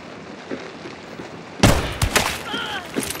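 Gunfire in the Hunt: Showdown video game, a sudden loud shot followed by a few sharper cracks and thumps against quiet background ambience.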